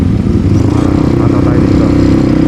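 Loud, steady motorcycle engine with an open exhaust pipe on a Philippine road ride near Daraga, Albay, droning close throughout with a low rumble, while voices talk over it.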